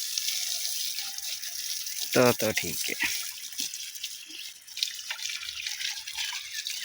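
Water runs and splashes steadily throughout while a motorcycle is washed, with a short stretch of speech near the middle.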